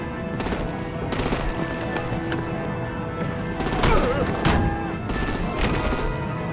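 Artillery and heavy gunfire in the Batman: The Enemy Within game, a steady barrage of repeated sharp reports over a dense, continuous roar of battle, with faint voices mixed beneath the din.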